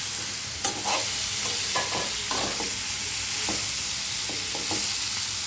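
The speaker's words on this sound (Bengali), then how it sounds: "ভালো করে নাড়াচাড়া করতে থাকতে হবে" Food sizzles steadily in a hot pan while a spatula or spoon stirs it in scattered scraping strokes, close and fairly loud with no talking.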